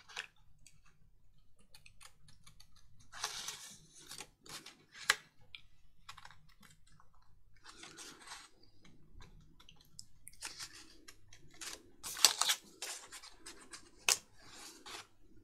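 Scissors snip and rustle through paper during fussy cutting for a craft project using 12x12 paper pads, giving quiet, irregular close-up crunches and scratches with no talking.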